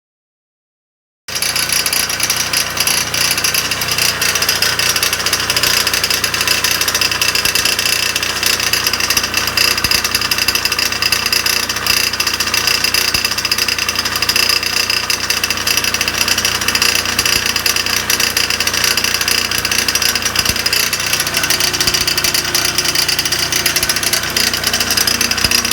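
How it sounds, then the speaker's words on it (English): A dental air compressor kicks on and runs with a loud, steady, harsh mechanical racket and a rattling drone that continues unchanged for the whole stretch after a silent start. "the compressor kicked on and it made this really terrible noise"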